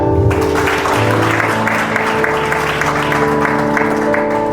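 Wedding guests at a holy matrimony ceremony applaud continuously, a loud, dense clapping that fills the room over a sustained musical backing.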